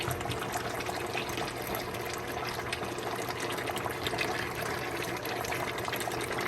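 Water is poured into a pot of cooking beef nihari, a steady close, soft splashing and trickling that runs on without pause.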